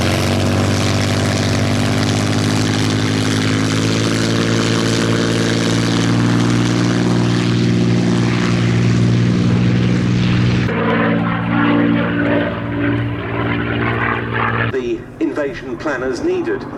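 A Supermarine Spitfire, Mk XIV or PR XI, flies overhead at a summer D-Day air show at Duxford, its piston engine a loud sustained drone that later fades while a commentator talks over it.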